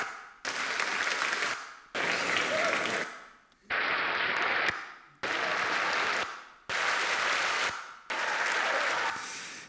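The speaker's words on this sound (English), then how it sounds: "And applause, if you want to." Six separate bursts of audience clapping at a conference, each lasting about a second and a half, stopping abruptly, with short silences between them, loud and close.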